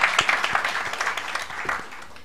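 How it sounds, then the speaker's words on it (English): Audience applause at the URD 2018 opening ceremony, honouring a representative of the Prime Minister, with an even wash of many hands clapping that swells at the start and slowly fades. "So let us applaud her"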